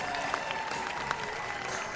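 Spectators lining the course at the Falmouth Road Race applaud and cheer passing runners, a steady wash of clapping and crowd noise with a couple of sharper whoops, fairly distant and continuous.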